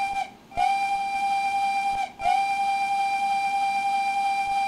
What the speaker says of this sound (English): That's the whistle.